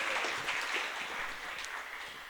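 A gathered audience at a library author event with a keynote speaker claps together in a sustained, even patter that sounds soft and slightly distant.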